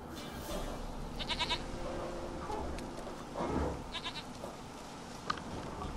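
A goat in The Witcher 3: Wild Hunt gives several short, wavering bleats spaced across the scene, fairly close and clear over a low ambient game background.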